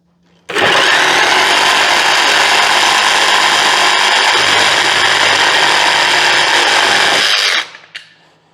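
A VEVOR cordless reciprocating saw cutting straight across wood, running loud and continuous for about seven seconds at close range before stopping abruptly.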